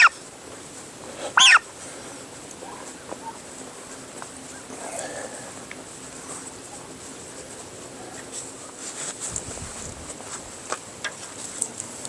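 The last and largest of six turkeys gives a single loud, close squawk early on, followed by faint shuffling and scattered small noises in a quiet setting.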